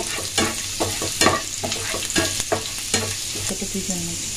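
Chopped garlic fries in a couple of spoonfuls of white oil in a pan, a close, steady sizzle broken by repeated sharp stirring scrapes and knocks at an irregular rhythm.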